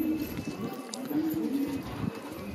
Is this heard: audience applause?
no